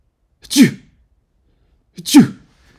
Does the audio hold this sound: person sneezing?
yes